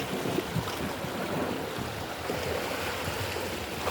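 Steady rushing and splashing of waves from a passing boat washing against something nearby, a continuous broad wash of water with no talking.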